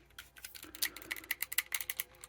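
A stiff joint on a new NECA-style action figure being worked gives off a rapid series of sharp, dry clicks and crackles, close and fairly quiet, grouped in quick bursts with no talk.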